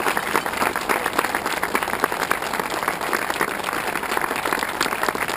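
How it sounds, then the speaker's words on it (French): A crowd claps loudly and steadily for volunteers and a runner named Nicolas, dense sustained applause with no gaps throughout. "Je vous demande l'applaudissement, c'est tout ce que je vous demande."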